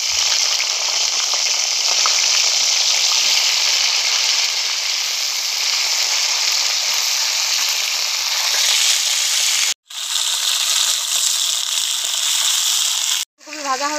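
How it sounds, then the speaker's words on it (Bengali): Cauliflower pieces fry in hot oil left over from frying fish, a loud, dense, continuous sizzle close by, broken by two brief cuts near the end. "এবার আমি এই মাছ ভাজা তেলের ভেতরে ফুলকপিটা ভেজে নেব।"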